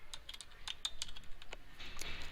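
Keys click on a computer keyboard in a quick, irregular run of soft taps, close and fairly quiet with no talking.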